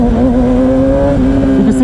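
A Yamaha R6 600cc sport bike engine revs in first gear, a steady loud tone with strong harmonics holding nearly level throughout, close and continuous with no talking.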